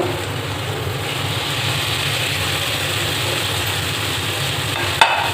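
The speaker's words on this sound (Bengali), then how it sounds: "এবার আমি আলুটাকে মশলার সঙ্গে ভালো করে কষিয়ে নেব" Fried potatoes being stirred into spice masala in a hot pan, with a steady close sizzle and scraping under a low engine-like hum, ending in a brief metallic clink; no talking.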